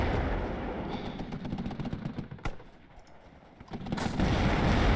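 Distant .50 cal machine guns fire in the strategy video game WARNO as rapid crackling bursts amid a rumbling battle din, fairly faint and continuous with sharper reports scattered throughout.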